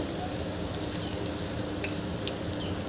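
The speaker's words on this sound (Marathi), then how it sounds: "या वड्यावर आपल्याला असं तेल घालून घ्यायचं आहे, म्हणजे वरची बाजू सुद्धा छान सेट होऊन जाते" Batata vada fry in oil in a pan, a steady, dense bubbling sizzle with a few faint pops and crackles, close up and alone with no talk.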